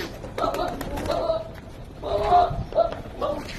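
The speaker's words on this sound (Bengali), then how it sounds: "একটা কবুতর দেখাবো, ডিমে বসে আছে।" A brooding pigeon sitting on its eggs gives soft, low cooing in a few short bursts, close by, with faint background noise.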